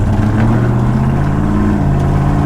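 Ford Falcon with a 331 V8 heard from inside the car on a road drive, its engine droning loud and steady throughout with a low rumbling hum, no voices over it.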